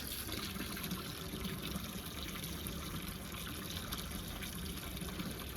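Water pours steadily into bowls for Kangal dogs, a continuous gushing, splashing stream that stays even and close throughout without speech.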